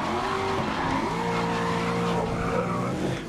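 Tires squeal in long wavering tones as a race car drifts through a corner in Grid 2019, engine droning underneath, loud and close, with no voices.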